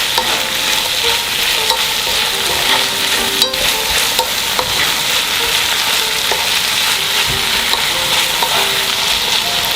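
Zucchini with chopped scallions and green onions stir-frying in a hot pan, a steady close sizzle broken by the repeated scrape and clatter of a utensil tossing the vegetables.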